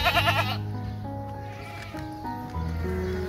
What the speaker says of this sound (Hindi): जी दोस्तों, ये भी एक मक्की चीना बकरा है